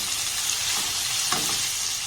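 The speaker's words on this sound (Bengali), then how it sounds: "পেঁয়াজগুলোকে খুব বেশি লাল করে ভাজা যাবে না একটু হালকা নাড়াতাড়া করে ভেজে নিলেই হবে" Chopped onions sizzle steadily in hot oil while being lightly stirred, a close, continuous frying hiss with faint scraping, no voices.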